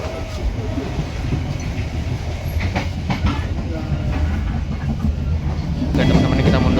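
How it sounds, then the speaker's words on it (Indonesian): An Indonesian economy-class passenger train reversing, a continuous rumble with rhythmic rail clicks heard from inside the carriage, rising a little toward the end. "kita harus mundur kereta ke belakang ke tengah, jalan mundur"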